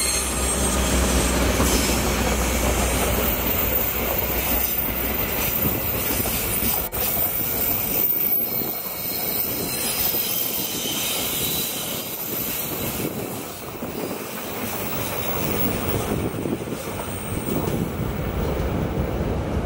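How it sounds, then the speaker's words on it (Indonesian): An Indonesian passenger train carrying first-generation executive and premium cars rolls past, with rumbling wagons, squealing wheels and rhythmic clickety-clack on the rails, loud at first and fading slightly. "kereta api Jawa dari Pasar"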